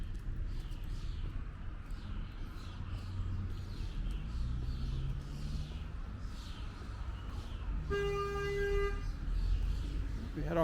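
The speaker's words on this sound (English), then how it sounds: "We had our first car horn for the morning." A car horn gives one short, clear toot on a Brooklyn street at dawn along Shore Parkway, rising over a steady hum of distant traffic and faint birdsong.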